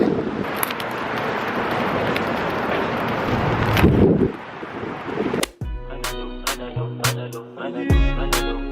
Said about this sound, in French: Le vent, les gars, tellement il est fort.